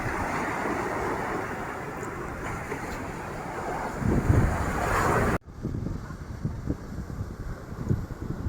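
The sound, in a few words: big ocean waves on the beach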